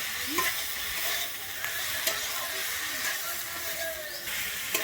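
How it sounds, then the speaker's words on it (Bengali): Chopped banana flower is stir-fried in a pan, a continuous hissing sizzle broken by repeated scraping and clinking of a spatula, moderately close, with no speech. "মোচাটা দিয়ে কিন্তু এখানে এক দু মিনিটের মতো আমি নেড়ে নেবো"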